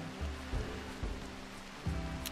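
Rain falling in the RimWorld video game, a steady soft hiss with a few dull low thumps mixed in, no voices.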